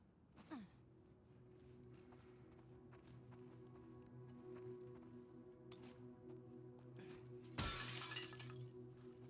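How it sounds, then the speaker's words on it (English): Glass breaks in The Last of Us Part II, heard as one sudden bright shattering crash late in the clip, following quiet movement and a low steady background hum. "Break the glass to throw the rope over the metal bar."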